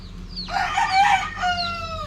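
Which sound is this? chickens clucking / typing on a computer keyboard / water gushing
chickens clucking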